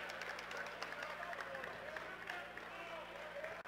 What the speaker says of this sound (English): the bench is up and clapping in the student section too